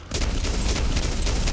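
Fully automatic gunfire during Fallout 4 combat against robots in a library, a dense continuous crackling burst of rapid shots that starts abruptly and runs steadily, with no speech.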